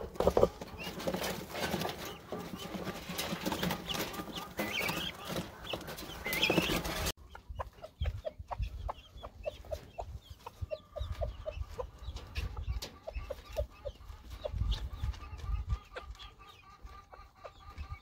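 Laying hens and a production red rooster cluck and call in a farm pen, a busy chorus of short clucks at moderate distance, with louder background noise at first that drops away partway through.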